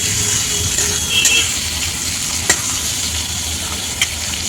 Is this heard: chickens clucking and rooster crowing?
no